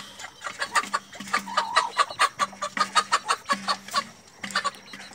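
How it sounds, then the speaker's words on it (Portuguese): Chickens from a Label Rouge hen crossed with a caipira rooster cluck in quick, uneven bursts, with brief low calls mixed in, moderately close and steady throughout, with no talk. "Esse aqui já é um cruzamento meu, que é uma Label Rouge com um galo caipira que eu tinha."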